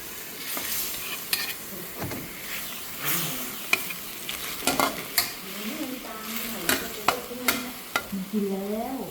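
Chicken and holy basil stir-fried in a hot pan, with steady sizzling and repeated scraping, clacking strokes of a spatula against the pan.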